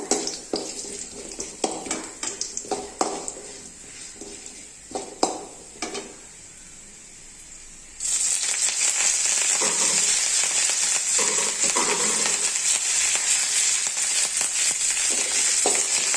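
Urad dal frying in a pan, joined by curry leaves: light stirring scrapes and taps first, then a sudden loud, steady hiss of sizzling oil that carries on to the end.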